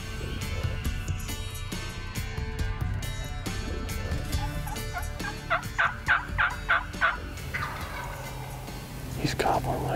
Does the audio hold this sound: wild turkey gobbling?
yes